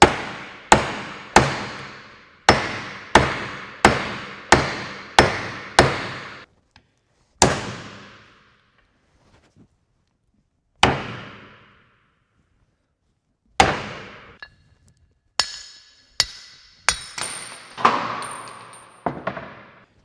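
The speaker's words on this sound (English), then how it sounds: "And I'm gonna try to hammer it out." A hammer drives an old wheel bearing out of a CFMOTO CForce ATV, sharp metallic blows ringing in a quick regular run, then spaced single strikes after pauses and a final flurry of hits, close and loud with no talk.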